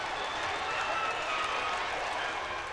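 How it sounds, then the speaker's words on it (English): Rugby stadium crowd at a Saldanha home match, a steady, dense roar of cheering and singing that fills the whole stretch, loud and continuous without clear breaks. "And now the crowd is on their feet, the dancing, the singing."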